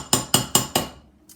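A number 2 double ball-peen hammer forges a metal bottle cap against a stake: four loud, evenly spaced ringing strikes close by, each decaying briefly, followed by a faint light tap.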